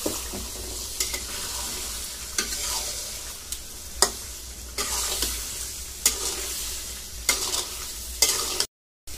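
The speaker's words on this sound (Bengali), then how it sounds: "এভাবে আমি রান্না করি শোল মাছটা। কষাবো ভালো করে।" Snakehead fish sautés in a pan with a steady, dense sizzle, broken by regular scraping strokes of a spatula stirring it, close and loud, ending in a brief cut to silence.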